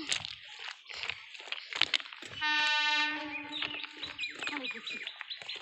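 A Sealdah line train sounds a long, loud horn blast lasting about half a second while people talk nearby, with rail noise and bird chirps in the background.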